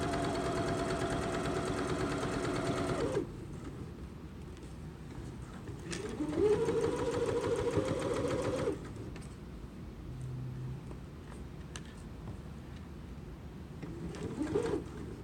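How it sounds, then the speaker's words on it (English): A sewing machine runs along the edge of a patchwork pillow in two short stitching bursts, a fairly quiet, even hum that stops while the fabric is turned, then a faint final whir. "Turn your fabric and then you can continue sewing"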